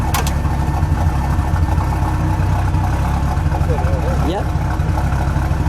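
A 1980 Ford Fairmont Futura Turbo four-cylinder engine idles with a steady low rumble, loud and close, while a person speaks briefly over it.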